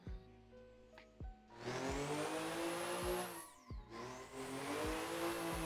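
Car engine in the Assetto Corsa driving game revving hard through a drift, with a rising high whine, a brief lift-off near the middle, then renewed loud acceleration, plus low thumps throughout.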